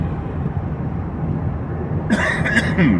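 A single person gives a short cough near the end, up close, over a steady low rumble of background noise.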